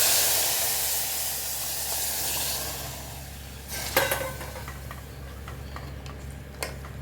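A hot tempering meets moong dal soup (pesarapappu charu) with a loud broad hiss that slowly fades into a soft simmer, with a few faint ticks and clinks later and no voices.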